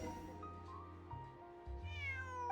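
A cat meows in the video game Genshin Impact over a sustained tonal game soundscape, with a clear rising, whiny meow near the end.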